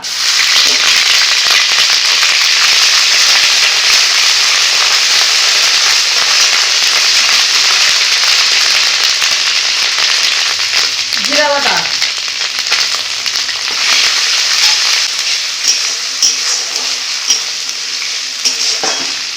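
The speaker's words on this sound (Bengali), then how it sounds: "তেল গরম হয়ে গেছে একটা তেজপাতা দিয়ে দিব গোটা গরম মশলা দিয়ে দিব দিয়ে দিব আদা বাটা" A bay leaf, whole garam masala and ginger paste hit hot oil in a kadai, producing a loud, continuous close sizzle with a brief burst of sharper crackling and spattering partway through.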